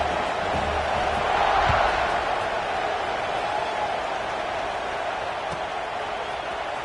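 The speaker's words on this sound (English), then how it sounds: "this crowd is feeling themselves after that last drive." Football stadium crowd roaring in a steady, dense wash of cheering after a 10-play, 75-yard scoring drive, with a swell around the second mark before easing into sustained broad noise as the kickoff unit takes the field.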